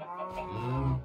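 A cow in Minecraft's FTB StoneBlock 3 modpack gives a single drawn-out moo, close and clear, rising slightly in strength toward the end.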